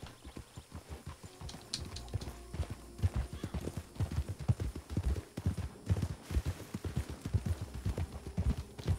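Horse hooves pound in a steady galloping clip-clop in the open-world western game Red Dead Redemption 2, close and continuous over about nine seconds with a faint hum beneath.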